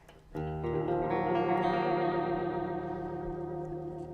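A guitar chord rings out through a Belle Epoch delay pedal set to vibrato mode, a sustained wavering tone with pitch wobble and echoing tail that fades slowly after a sharp attack.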